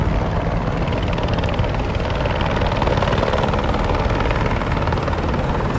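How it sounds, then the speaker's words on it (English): Helicopters at a Lower Manhattan pier produce a loud, continuous rotor thrum with steady rapid blade chop and engine drone, close by and unbroken throughout. "We pass the helicopters"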